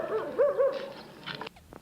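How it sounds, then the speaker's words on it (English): A dog vocalizes close by during an outdoor walk on a Pacific island vacation in 1983, giving short whimpering yips and barks in quick succession, with faint background noise behind. "That's a dog that keeps barking."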